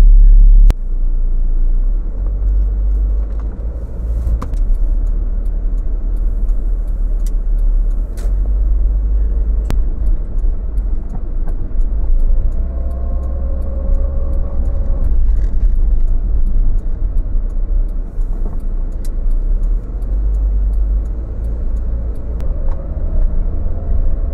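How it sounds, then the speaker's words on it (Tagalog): A car drives through city traffic in Baguio City, with a steady low engine and road rumble throughout and occasional passing vehicles and brake hisses nearby. "So yun, mag-drive na tayo. Sana hindi na ganun ka-traffic."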